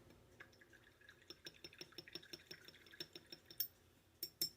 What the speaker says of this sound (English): Let me clean this brush off real quick.